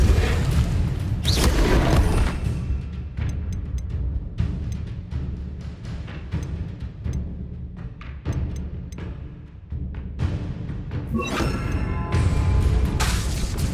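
Bombarda spell explosions in the video game Hogwarts Legacy make heavy booming blasts with deep rumbling low end, loud and continuous, with sharper bursts near the start and the end.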